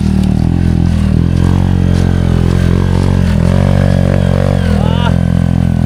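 Yamaha Mio scooter engine running close by, a loud continuous drone with rising and falling revs and some clatter.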